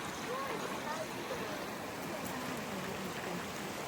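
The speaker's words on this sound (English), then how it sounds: "Waterfall." A waterfall on Spanish Cove River in Portland sends out a steady, even rush of falling water, loud and unbroken throughout, with no voices standing out.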